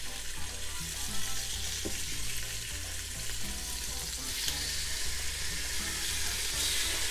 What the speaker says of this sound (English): I'll go ahead and add my meat. If there's a fattier side, I'll put that down so it starts to sear off that fat.